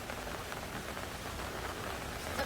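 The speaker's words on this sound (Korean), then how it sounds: "드디어 비가 온다." Rain falls steadily at a valley campsite during a summer downpour, a dense, even hiss of drops pattering on surfaces all around, with no talking.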